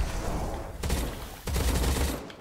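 Bursts of rapid gunfire from the looter-shooter game Quantum Knights, two loud volleys with a brief lull between them over a dense, noisy battle backdrop, no talking.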